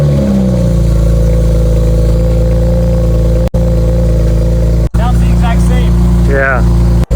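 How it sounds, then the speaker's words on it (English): A car fitted with new downpipes fires up for its first start, cranking briefly before settling into a loud, deep, steady idle close to the listener, with short bursts of speech near the end. "Now I'm gonna do the first startup with the new downpipes and see what it sounds like."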